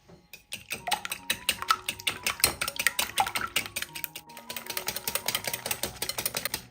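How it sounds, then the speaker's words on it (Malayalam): Eggs being whisked until frothy in a bowl, with rapid, rhythmic clinking and tapping of the whisk against the sides. It is close and fairly quiet, and the pace quickens toward the end. "ഇനി ഈ മുട്ട നല്ലതുപോലെ ഒന്ന് അടിച്ച് പതപ്പിച്ചെടുക്കാം"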